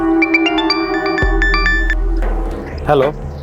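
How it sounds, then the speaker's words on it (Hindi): An electronic phone ringtone plays a quick series of tonal beeps, close and clear, followed by a brief muffled voice. "10 दिन पहले लक्ष्मी का फोन नहीं लगा तो मैंने दामाद जी को फोन किया।"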